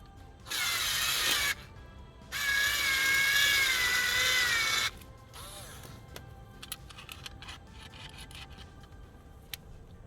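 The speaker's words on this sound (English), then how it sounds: "Attach the actuator to the bracket using the 2 screws provided in the kit." A power driver runs the two kit screws that fasten a door lock actuator to its bracket on an 1982–1992 Camaro: two close, loud buzzing bursts, one short and one longer, followed by faint scattered clicks.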